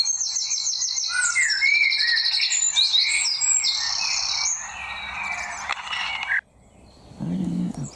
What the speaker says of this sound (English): we need to get out of this bird sound and hear it properly then